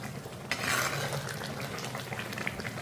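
Herbal hair oil simmering gently on low heat in a pan, a soft continuous bubbling fry with a faint rustle and one brief clink near the start.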